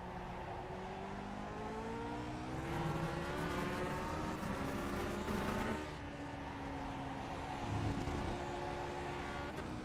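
A Lotus 49 race car in iRacing roars at full power, its engine note climbing through gears with steady high revving and rising harmonic sweeps, loud and continuous with no voices.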